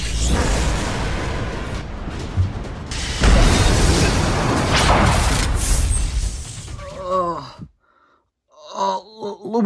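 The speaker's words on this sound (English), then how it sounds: "Oh, that was a big explosion." A big explosion effect in a Lego Mario play scene: a loud, sustained roaring blast with rumbling debris that runs for about seven seconds and cuts off abruptly, followed by character voices speaking.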